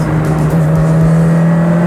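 Toyota Corolla AE86 engine held at full throttle, a loud, close, steady high drone with a strong sustained tone and no talk over it.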